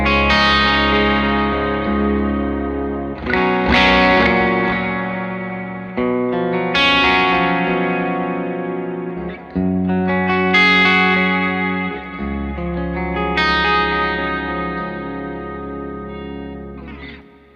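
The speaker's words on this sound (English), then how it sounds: "let's hear the clean sound of the Les Paul." Clean Les Paul electric guitar through a Victory VC35 The Copper amp, chords ringing out and decaying with sustained harmonics, struck again about every three seconds, played alone with no voices.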